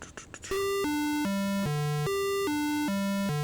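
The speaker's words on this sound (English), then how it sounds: "It plays a sequence of notes in a specific order." A synthesized tone from a TTL sequencer steps through four descending notes, then repeats the same four-note pattern, each note steady and evenly timed.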